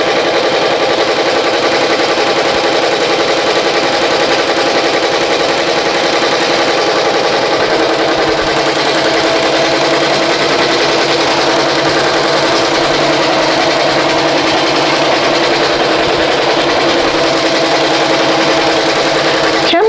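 A BAI Mirror 1501 embroidery machine stitches a sketch design onto a t-shirt, a steady, loud, continuous mechanical whir and rapid needle chatter running without pause.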